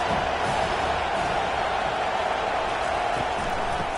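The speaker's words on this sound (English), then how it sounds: "This crowd trying to make life miserable for this offense." A stadium crowd in College Football 25, during a Northern Illinois Huskies vs Notre Dame game, makes a steady, dense roar that holds level throughout with no clear talk.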